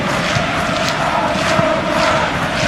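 Stadium crowd in the stands during a Liverpool versus PSG Champions League match, a broad continuous roar of groaning and murmuring voices at steady loudness, with scattered louder swells.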